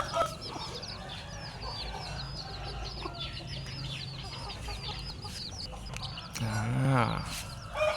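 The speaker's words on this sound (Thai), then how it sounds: "ครับแต่วตรงนี้เราก็จะมีไก่ทั้งหมด8ซุ้มนะครับ" Chickens in coops cluck continuously in a dense, busy chorus nearby, with a louder, closer call swelling near the end.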